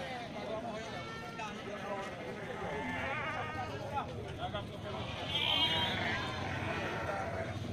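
Goats bleating now and then amid a busy crowd at a livestock market in Geurugok, with people talking throughout and a general market hubbub.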